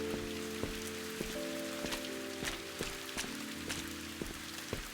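Steady patter of rain in the video game Viewfinder, a dense even hiss with scattered soft drops over a low ambient hum and faint musical tones, with no talking.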